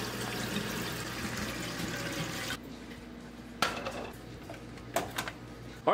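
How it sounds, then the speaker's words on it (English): Water runs steadily into a pot for a couple of seconds, then stops, followed by a few light clinks and knocks of metal handling in a quiet room. "let's fill this thing with water,"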